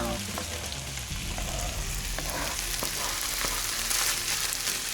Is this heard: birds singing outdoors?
no